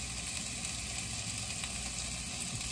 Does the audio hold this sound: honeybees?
no